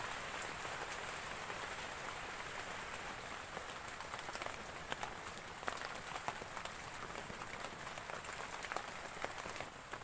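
Heavy rain pours steadily over a campsite in strong wind, a dense, even hiss with scattered close drops pattering throughout and no voices.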